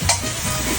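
Banana blossom goes into a pan with ground meat and crushed pepper for ginataang puso ng saging, bringing a close, brief burst of sizzling and stirring with a couple of sharper scrapes.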